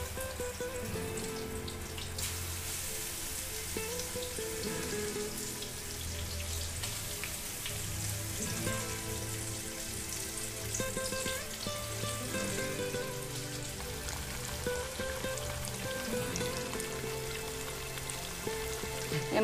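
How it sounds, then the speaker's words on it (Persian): Fish fries in hot oil in a non-stick pot for a Persian New Year's Eve dish, giving a steady, quiet crackle and sizzle with scattered pops that continues throughout. "بعد ماهی ها رو بندازیم توش."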